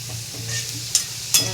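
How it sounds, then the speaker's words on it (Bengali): Potatoes fry in a pan with a steady sizzle while a utensil stirs them, giving two sharp scraping clacks near the end, close and moderately loud, with no talking. "লাল করে আলুগুলোকে আমি ভেজে নিয়েছি"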